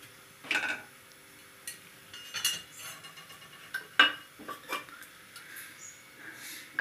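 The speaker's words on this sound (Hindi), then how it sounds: "देखिए गैस ऑन कर रही हूँ, गैस ऑन कर कढ़ाई रख दी।" A gas stove is switched on in a home kitchen and a metal kadai pan is set down on it, giving several sharp metallic clanks and clicks scattered over quiet gaps, close to the microphone.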